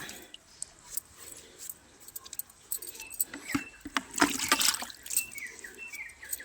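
Something is washed by hand in water, with splashing, trickling and light clinks that grow busier and louder midway, close by and with no talk.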